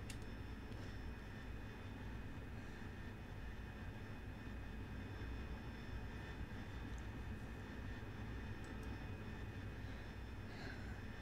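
A simulated AV-8B Harrier jet engine in DCS World holds a steady, faint, even drone with a low rumble and thin high tones, unbroken from start to finish.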